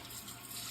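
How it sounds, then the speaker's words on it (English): A gushing rush of water from an EPLO smart bidet toilet flush, steady and fairly close, with a bright hiss through the whole short burst. "and it flushes"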